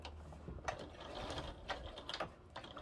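A sewing machine stitching a travel organizer a quarter inch from the edge runs steadily for about three seconds. A continuous mechanical whir carries faint ratcheting clicks, and no one speaks.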